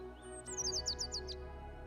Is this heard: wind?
no